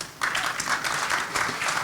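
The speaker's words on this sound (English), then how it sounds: "audience जो यहाँ पे cheer कर रही है, clap कर रही है" A festival audience at a Vadodara literature panel on farming bursts into steady, dense applause mixed with cheering. The applause holds at an even loudness throughout, with no talking over it.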